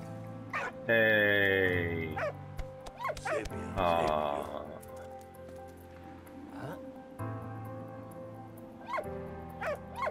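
A dog in the video game Valiant Hearts barks and yips in short bursts, with whimpering whines between, mixed with game sounds and someone talking over it.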